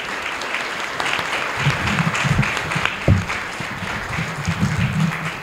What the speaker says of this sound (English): will you please join me in thanking our candidates with a round of applause